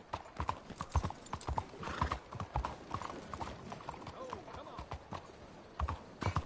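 Horse hooves clip-clop steadily in a video game on a first playthrough, the rhythmic steps sounding close and mixed with other game noise while a person talks over them.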